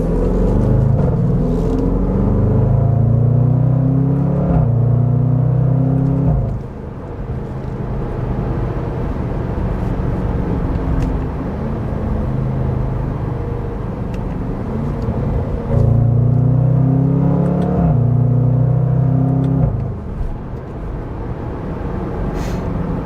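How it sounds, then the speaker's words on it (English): A 2022 Range Rover Sport SVR with a 575 hp engine roars while accelerating, its loud exhaust snorting and rumbling through repeated rising gear pulls with brief drops between shifts. "The snorting of that exhaust, it's like an angry hippo."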